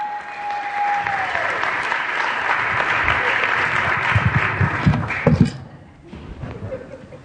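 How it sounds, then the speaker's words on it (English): A crowd claps in sustained applause, loud and steady, with a few thumps near the end before it fades out. "give him a round of applause here"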